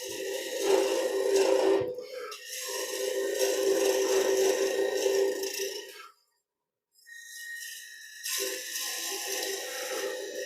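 A turning tool cuts into wood on a lathe, giving a loud, close rasping scrape in long bursts, with a short silent pause midway before the cutting resumes.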